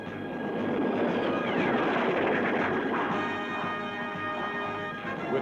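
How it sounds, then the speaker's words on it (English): Cartoon aircraft roar steadily overhead with a loud, sustained engine drone, a collision adding a brief rough burst within the continuous noise, with no talk. "Colliding aircraft."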